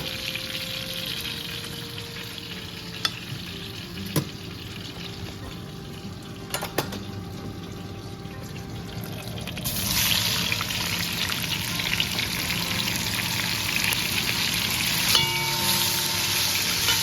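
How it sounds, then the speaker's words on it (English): Sausage sautéing in a pan, a continuous hiss of frying that grows noticeably louder and brighter about halfway through, with a few faint clicks and clinks of utensils scattered throughout and no talking. "saute the sausage"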